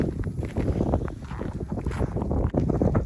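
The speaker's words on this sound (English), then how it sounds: "There's some nice gusts." Strong winter storm wind roars and buffets the microphone in continuous gusts during heavy snow and ice, a loud, rough rush with no voices.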